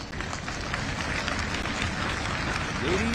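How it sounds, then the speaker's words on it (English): Applause for a ship's color guard at a naval commissioning ceremony, a steady spread of clapping from an outdoor gathering with a faint tone rising near the end. "a big round of applause for the ship's color guard"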